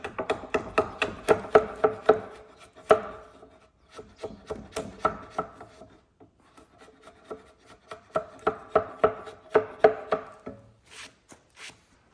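A chisel cuts an oak mortise for a porch post in a series of sharp, rhythmic strikes and paring scrapes, loud and close, in bursts with a short pause midway and no talking.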